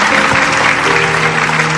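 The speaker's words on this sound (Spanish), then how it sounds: "Un aplauso para él." Studio audience applause on a Peruvian television comedy show, a dense, steady clapping wash that holds loud and unbroken from start to finish with no voices over it.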